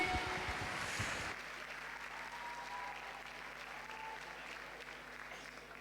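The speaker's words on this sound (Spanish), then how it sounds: "Un aplauso para los supports," Audience applause for the support cosplayers at the Mangamore 2023 cosplay contest, a steady wash of clapping that starts loud, drops after a second and continues more faintly to the end.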